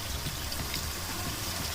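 About half a cup of water poured into spiced masala in a pan while cooking a mixed vegetable pulao, giving a continuous, even hiss and bubbling wash with no breaks.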